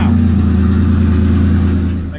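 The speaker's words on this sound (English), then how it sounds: "3-inch dual exhaust." A car engine revving through a 3-inch dual exhaust, a steady deep rumble with strong low tones held for about two seconds, loud and close, then easing off at the end.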